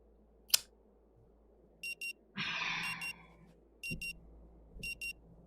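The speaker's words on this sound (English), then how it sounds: "Sound coming from a century-old clock nudges you back to the present" A century-old clock in the video game Rue Valley ringing in short, evenly spaced bursts of bright electronic-sounding chimes, quiet and alone, with a soft thump and a brief rustling swell between rings.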